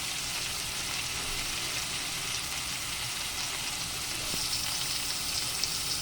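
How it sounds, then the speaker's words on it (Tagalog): Garlic, white and red onions, tomato and long chili sautéing in a pan, a steady crackling sizzle close up with no one talking. "naginisa na natin ang ating bawang, ang ating sibuyas na white at saka red"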